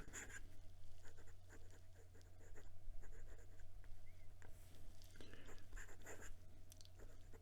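A Tibaldi Bononia Bora Bora fountain pen with a double broad Architect nib writes on Clairefontaine 90 gsm paper, giving soft scratchy strokes in close, irregular bursts over a low steady hum.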